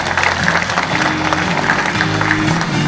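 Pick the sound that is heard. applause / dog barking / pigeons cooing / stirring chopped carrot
applause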